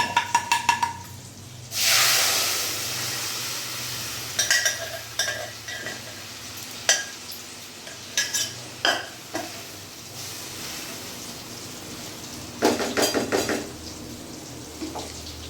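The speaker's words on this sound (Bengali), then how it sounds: "এই যে আমার ডাল সেদ্ধ করে রাখা, আমি এটা পুরোটা দিয়ে দেবো।" Boiled dal poured into a hot pan and stirred, with a brief splashing pour followed by scattered clinks and scrapes of a spoon against the metal pan over a faint background sizzle, no talking.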